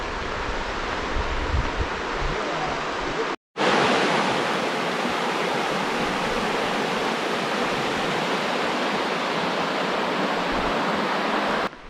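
Rushing river water in the Hoh Rainforest valley, a steady loud broadband roar of flowing current with a brief cut near three and a half seconds before it resumes unchanged, no voices.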